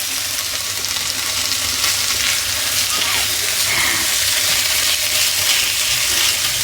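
Ginger garlic paste frying with onions in a pan for an egg pepper fry, a loud, dense, continuous sizzle without pauses.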